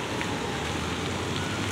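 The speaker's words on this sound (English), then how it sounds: "It's raining." Steady rain falls in an outdoor downtown Dallas civic garden, a continuous even hiss of drops on surfaces with no talk.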